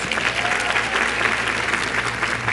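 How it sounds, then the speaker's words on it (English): A graduation audience at a class of 2017 commencement claps in dense, continuous applause, loud and even throughout the short stretch with no voices on top. "Give yourselves a round of applause."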